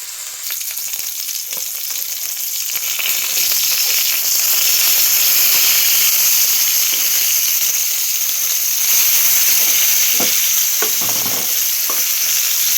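Thinly sliced fish frying in a pan, giving a loud, steady sizzle with bursts of crackling and popping oil throughout, close up and with no talking.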